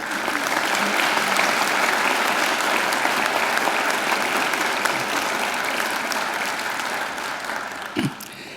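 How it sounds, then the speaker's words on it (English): Audience applause at a university graduation ceremony, a large crowd clapping in a continuous loud roar that tapers slightly toward the end. "I think Professor Duncan deserves another great round of applause."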